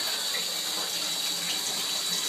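Warm tap water running steadily from a faucet for a pet Amazon parrot's bath, a constant soft gushing hiss with no pauses and no talk.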